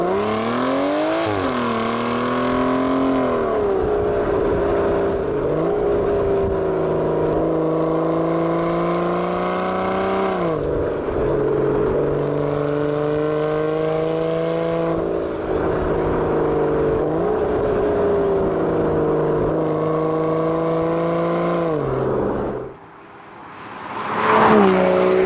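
An Aston Martin Vanquish Mark II driven in sport mode, its engine droning loudly and rising and falling through gear changes for the whole stretch, then briefly dropping away near the end before revving back up.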